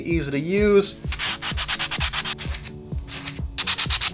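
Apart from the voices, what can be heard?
hand sanding sponge sanding MDF cutout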